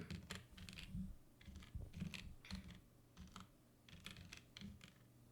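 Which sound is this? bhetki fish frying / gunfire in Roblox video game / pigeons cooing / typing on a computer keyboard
typing on a computer keyboard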